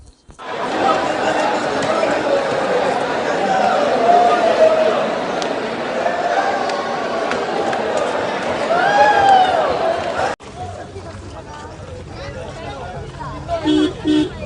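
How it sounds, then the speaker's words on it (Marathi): A dense crowd of voters and passengers mills about at Kankavli's Konkan railway station, a loud steady hubbub of overlapping voices and distant bustle that cuts off abruptly, leaving quieter street ambience and a few scattered sounds. "कणकवलीमध्ये मतदानासाठी कोकण रेल्वे स्टेशनवर व नरडवे रोडवर उतरलेल्या प्रवाशांची तुफान गर्दी"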